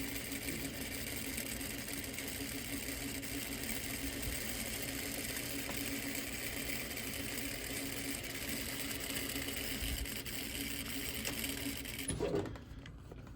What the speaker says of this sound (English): lining that edge up to the presser foot, back stitch at the beginning and the end, that 12 SPI